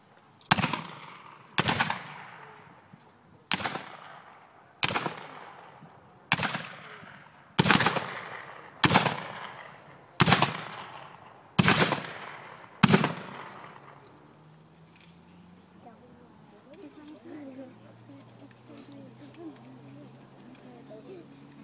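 Civil war reenactors fire rifle volleys at a Stones River battle event, ten sharp, evenly spaced cracks ringing out about every second and a half, followed by quieter outdoor ambience.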